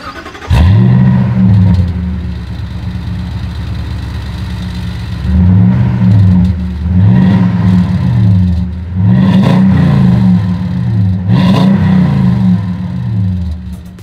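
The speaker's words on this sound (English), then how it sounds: "here is that exhaust clip" A 2020 Toyota Tundra pickup's exhaust idles with a steady low rumble, then climbs through several sharp revs that rise and fall in a repeating pattern, loud and close, with no talking over it.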